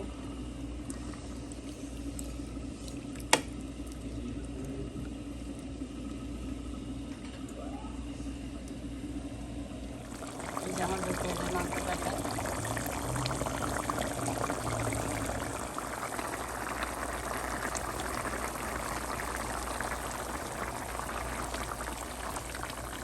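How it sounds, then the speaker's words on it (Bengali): Water poured from a container into a cooking pot during home cooking, a steady liquid rush that begins about ten seconds in and continues to the end over a low, constant kitchen background, with no voices. "এখন জল দিব তাও জল বেশি না নিয়ম অনুযায়ী জল দিব"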